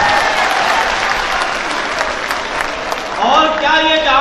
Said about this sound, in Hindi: एक जोरदार ताली हामिद मुसावरी के लिए होना है।